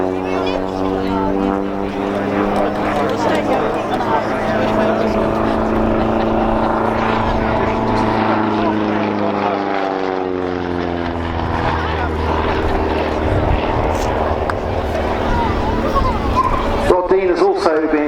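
A Scottish Aviation Bulldog propeller training aircraft flies at an air show, its steady droning engine and prop tone holding throughout at close range, with a voice talking over it.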